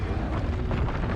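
Repeated Expulso blasting spell explosions in the Hogwarts Legacy video game, a loud continuous roaring rumble with dense crackling bursts throughout, no talking.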